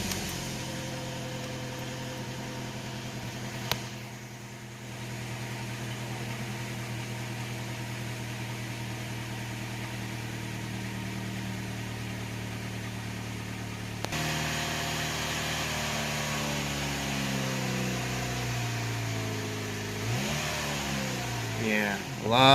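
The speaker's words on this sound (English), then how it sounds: "We'll fire it up for a cold start. See what she does, see how she sounds." A 2005 Chevy Cavalier with a 2.2 engine on a cold start: a steady close engine idle hums throughout, then rises and falls in a couple of revs near the end, with no talking over it.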